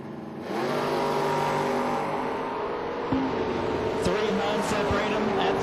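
Drag race cars, including a Ford Mustang, rev and launch off the start line at a bottom bulb elimination event in Kentucky, a steady loud engine roar building from near silence with an announcer talking over it.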